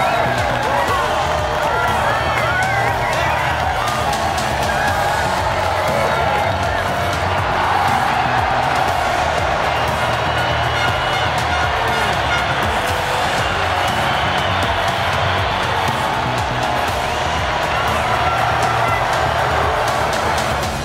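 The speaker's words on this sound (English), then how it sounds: "enjoying a round of applause from the team and fans" Cheering and applause from a team and fans after a MotoGP race, a dense, steady crowd roar with clapping that stays loud throughout, with someone talking over it.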